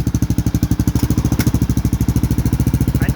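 A Kawasaki KLR 650 single-cylinder engine idles with a blown-out exhaust whose welds have broken, producing a loud, close, rapid, even chugging pulse that carries on steadily.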